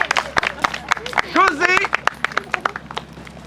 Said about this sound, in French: On applaudit José.